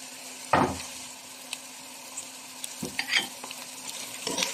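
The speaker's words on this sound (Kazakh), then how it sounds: "осы қуырылып жатқан жуаға морковымды саламын" Carrots added to onions frying in a pan, a soft continuous sizzle with a few scraping stirs and utensil knocks nearby, no one speaking.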